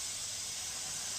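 Water poured into frying tomato masala for an egg posto dish sends up a loud, steady hiss of steam and sizzle at close range, with no talking.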